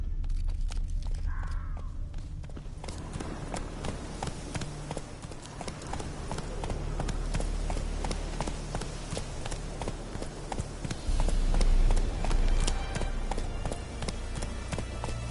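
The horse Roach gallops in The Witcher 3, hooves pounding in a steady, rhythmic clip-clop throughout, close and prominent over a low ambient bed, with a brief voice near the start.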